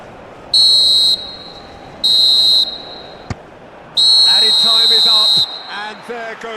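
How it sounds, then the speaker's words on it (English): Referee whistle in the football video game PES 2021, three sharp shrill blasts, the last long, loud over crowd noise and a commentator's voice. "goes the whistle"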